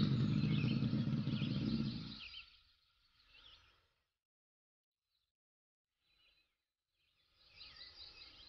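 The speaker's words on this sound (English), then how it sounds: "motorbike" A motorbike engine hums loudly for a couple of seconds and then fades away. After a quiet gap, a similar engine sound rises again at a moderate distance.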